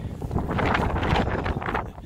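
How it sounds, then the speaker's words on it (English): Strong wind gusts outdoors in moody weather at a tent campsite, roaring and buffeting steadily against the microphone for the whole stretch. "Getting out of the wind so that I can have some quiet, because the constant noise in my ears and trying to film in this is horrible"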